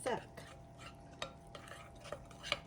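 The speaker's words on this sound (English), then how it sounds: "I'm just going to mix it so all the flour is incorporated" Flour mixture being stirred into apple crumb cake batter, faint soft scraping with a few light clicks of a utensil against the bowl, quiet and close, with no talking.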